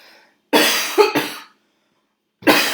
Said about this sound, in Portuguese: É só eu começar a falar que eu começo a tossir